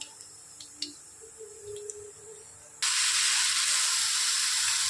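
Sliced potatoes dropped into hot oil with black cumin for white aloo posto, a sudden loud, steady sizzle that starts after a quiet stretch of faint kitchen clatter and holds to the end.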